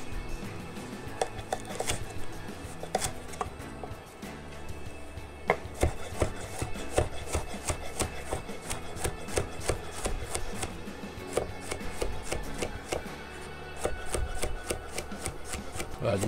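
A knife cuts squash into small cubes on a board, with many sharp, close taps in quick, uneven runs that go on throughout.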